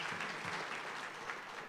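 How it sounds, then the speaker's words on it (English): A church congregation at a bluegrass service gives a short, steady round of applause for the communion servers, a dense wash of clapping from many hands, moderately loud and with no talk. "Would you give them a good round of applause?"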